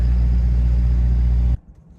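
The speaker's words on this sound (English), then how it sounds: "we are going to fire it up now and then drive it" A 1968 Oldsmobile Cutlass Supreme convertible engine runs loud and close with a deep, steady rumble, then cuts off abruptly, leaving faint ticking and quiet.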